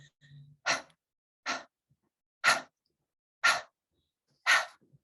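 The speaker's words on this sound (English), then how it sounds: "a blow breath, which is simply a shorter breath through the mouth," Five short, sharp breaths blown out through the mouth, evenly spaced about a second apart, close and clear with silence between them.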